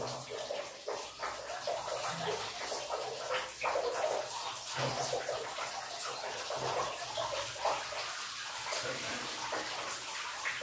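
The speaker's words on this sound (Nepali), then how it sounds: "तातो पानी माथिबाट भरिरहेको छ अनवरत रूपमा" Hot water runs continuously from an overhead tap into a bathtub in a Pokhara hotel room, a close, steady splashing gush with small fluctuations and no talking.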